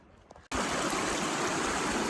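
A mountain stream in Kananaskis near Bluerock Creek rushes loudly and close by, bursting in abruptly after a brief quiet moment and then pouring on as a steady, full, unbroken wash.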